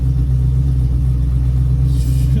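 A stroked LQ9 V8 in a 600 hp Chevelle runs steadily on a freeway drive, a loud, deep, constant engine rumble with a faint rise of road hiss near the end.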